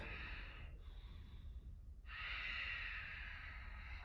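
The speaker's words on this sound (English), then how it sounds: "one more breath" Slow yoga breathing during a workout for runners: one long, close exhale, a brief pause, then a fuller, louder breath that holds steady to the end, with no talking.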